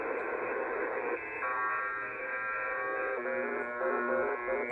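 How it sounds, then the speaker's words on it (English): Over-the-horizon radar signal received on a shortwave software-defined radio in USB mode, heard as a harsh, continuous buzzing rasp with shifting pulsed texture over radio hiss, steady and moderately loud throughout. "Probably some over the horizon radar."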